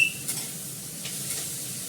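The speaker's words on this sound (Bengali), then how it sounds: "আমার শাশুড়ি মার তাওয়াটাতে এখন নিম পাতা পোড়াই ভাজি" Neem leaves fry in a little ghee with salt on a vegetarian roti tawa, a soft, low sizzle with a couple of light scraping ticks, close but fairly quiet.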